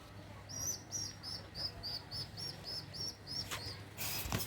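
Pigeons give a run of high, evenly spaced chirps while being fed by hand, a steady rhythmic series with a brief flutter or rustle at the end.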